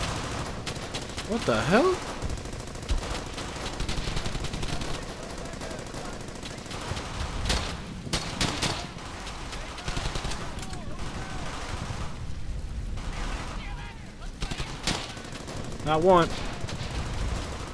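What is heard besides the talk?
machine gun fire in Brothers in Arms video game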